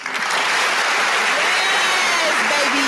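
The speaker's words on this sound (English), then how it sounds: "I can give myself a round of applause on this one." A burst of recorded applause plays on a podcast, a dense, loud wash of clapping with a faint whistle-like tone running through it, steady for about three seconds.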